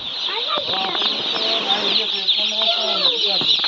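A dense, loud chorus of high peeping comes from about 1,600 broiler chicks crowded together on a poultry farm, calling continuously and overlapping without a break.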